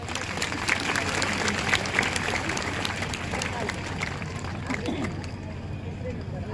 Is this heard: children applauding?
yes